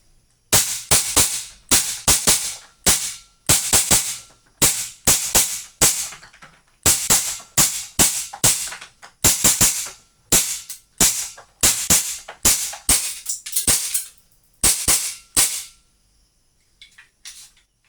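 A WE T-Rex gun empties a full magazine in bursts of sharp, loud cracks, grouped into quick clusters with brief gaps between them, and then falls silent near the end.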